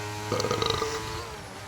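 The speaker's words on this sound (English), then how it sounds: "I do apologise for that disgusting burp" A man's loud, drawn-out burp, rattling and gravelly, during a sim-racing league broadcast of a sprint race in Britain, lasting about half a second over steady background hum.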